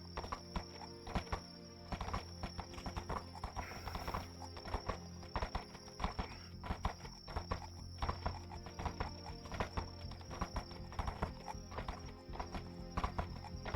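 Horse hooves clopping in a steady rhythm with neighing in the VRChat video game, heard over a dense, busy game soundscape at a moderate distance.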